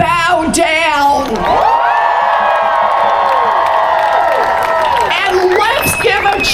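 A crowd at a political rally roars and whoops in a sustained, loud cheer for patriots, with shouted voices rising over the mass of noise throughout.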